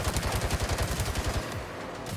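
Rapid automatic gunfire from the video game Gangstar Mirage City, a fast, steady rattle of shots lasting most of the moment before cutting off, loud and close with no talk over it.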